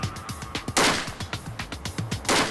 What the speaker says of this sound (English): begins unloading rapid fire